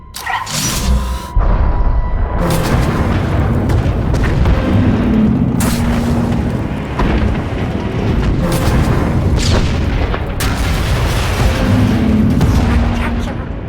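Weapon fire and explosions in the Star Wars: The Old Republic video game: heavy booming blasts and rumbling detonations, loud and continuous across the scene, with a few sharp bursts and some voices under the din.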